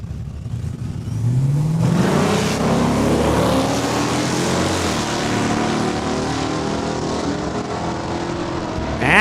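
Drag race launch at a Saskatchewan raceway, a 1987 Blazer against a Duster, engines roaring loudly and rising in pitch as the vehicles accelerate hard, a sustained dense roar that holds for several seconds.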